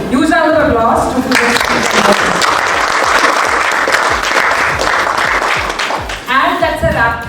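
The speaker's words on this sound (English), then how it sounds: "So huge round of applause to" Loud, sustained applause from a conference audience at a corporate business event fills the middle of the passage, with people talking just before it begins and again as it fades.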